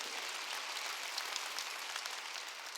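A church congregation at a Korean Wednesday worship service claps together, a dense, steady wash of hand claps sustained evenly throughout with no voices over it.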